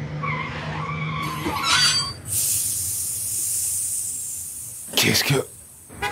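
A bus skids with a long, hissing screech as it nearly hits someone, an audiobook sound effect heard after a voice speaks, followed by a sharp burst of noise near the end.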